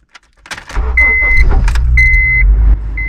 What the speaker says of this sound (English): we're in the car here. We're gonna go for a little drive today.